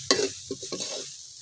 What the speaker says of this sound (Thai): ไฟที่ใช้ก็เป็นไฟอ่อนก่อนนะคะคั่วให้มะพร้าวของเรามีกลิ่นหอม